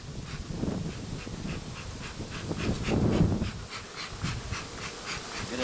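Honey bees buzz steadily at a hive entrance, a dense close swarm drone with rising and falling intensity and no talking.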